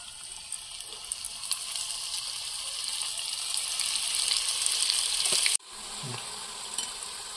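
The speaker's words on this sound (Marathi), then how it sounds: "चिप्स लावून झाल्यानंतर आपण याला तेलामध्ये सोडूया।" Batter-coated onion rings with a chip coating sizzle and crackle loudly in hot oil, a dense steady hiss that builds and then drops suddenly before carrying on more quietly.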